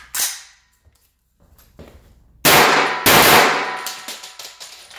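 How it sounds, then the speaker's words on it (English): A 300 Blackout rifle firing 125 grain supersonic rounds indoors: a few sharp, very loud cracks with clanging ring and room echo, the last two shots close together and decaying into reverberation. "So we're gonna shoot a few rounds, see what it sounds like"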